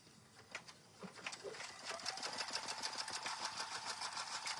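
A sewing machine stitches down the bottom of a fabric notebook cover, starting after a few soft clicks and then running in a fast, steady, rattling rhythm close by.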